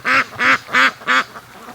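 Four loud, evenly spaced quacks from a nearby free-range duck in molt, followed by a faint fifth call, with no talking.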